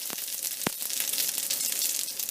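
Chili, garlic and ginger paste sizzles steadily in hot oil for fried rice, a loud continuous crackle and hiss with a few sharp spatters, with no voices.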